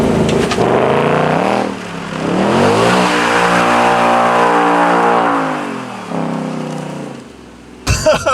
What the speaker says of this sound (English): I'm going to turn the drift brake on, turn traction control off, and I'm gonna utilize this drift brake handle here.